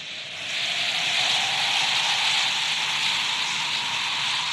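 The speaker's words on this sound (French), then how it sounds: "Il y a un bel orage qui menace. Ah oui, et il commence déjà à pleuvoir." Steady rain beginning to fall as a storm threatens, a continuous even hiss that holds at a moderate level throughout with no voices.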